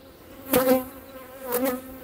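A modest honeybee colony hums during an end-of-winter hive inspection, with a steady close buzz that swells twice as bees fly past near the listener.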